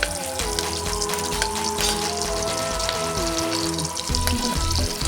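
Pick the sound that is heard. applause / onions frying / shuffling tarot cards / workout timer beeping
onions frying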